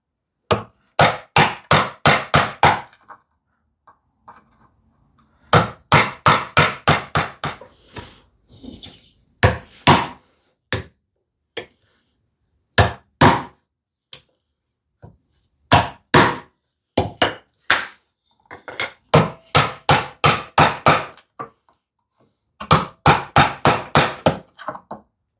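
A chisel is hammered into wood in rapid bursts of sharp, close strikes, with short pauses between the clusters of blows.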